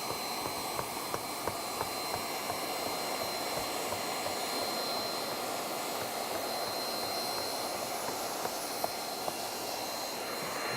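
A hot air welder runs on a roofing seam during the final back weld of a pitch pan installation, giving a steady, continuous blowing whoosh with a faint high whine that holds evenly throughout.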